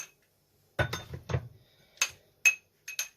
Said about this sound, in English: So go ahead by putting your biscuit base in the glass jars.